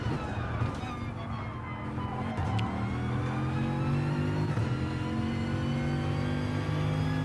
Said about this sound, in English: Very nice sounding car as well, the Bugatti.